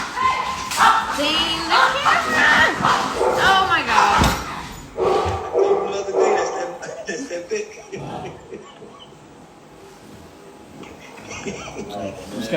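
Puppies scuffle with sharp barks, yips and whimpers at close range, mixed with excited human exclamations and talk, then the noise settles and fades toward the end.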